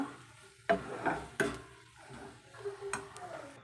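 A spoon stirs upma in a pan just after coriander leaves go in, giving a few sharp scraping clicks and soft shuffles with quiet gaps between them.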